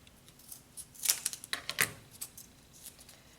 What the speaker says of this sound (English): I would take my scissors and come in and snip that off.